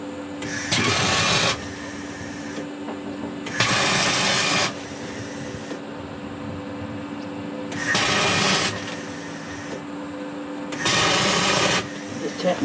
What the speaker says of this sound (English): Just tap welding it first